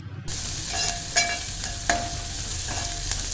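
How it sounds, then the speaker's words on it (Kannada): Chopped onions sizzle steadily in a hot pan, with a few sharp clinks and scrapes of a utensil stirring them at close range; no voices. "ಕಟ್ ಮಾಡಿರೋ ಈರುಳ್ಳಿ ಹಾಕಿ ಇದು ಸ್ವಲ್ಪ ಕಲರ್ ಚೇಂಜ್ ಆಗೋ ತನಕ ಫ್ರೈ ಮಾಡಿ"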